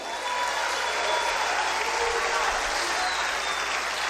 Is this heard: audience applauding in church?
yes